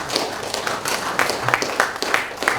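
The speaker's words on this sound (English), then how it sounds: "I think we should give Dr. Atang one more round of applause." A conference audience at a religious freedom event in Nigeria claps in a loose, thin round of applause, a handful of distinct sharp claps standing out over a murmuring room.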